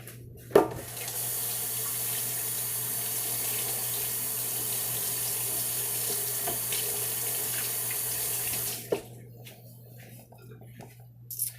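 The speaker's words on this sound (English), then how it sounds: "Hold on, let me go wash my spoon." Tap water running over a spoon at a kitchen sink, a loud steady rushing stream for about eight seconds, opening and closing with a clunk, then quiet handling.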